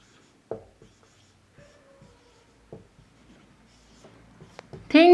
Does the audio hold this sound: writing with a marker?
yes